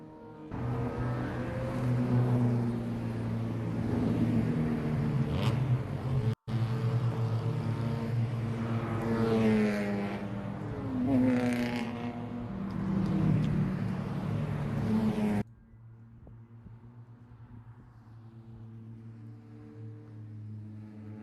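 Spec Miata race cars at Road Atlanta during a FARA Atlanta 200 Sunday race, engines droning loudly and steadily for about fifteen seconds before dropping to a quieter, distant hum.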